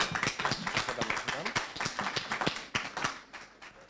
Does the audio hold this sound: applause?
yes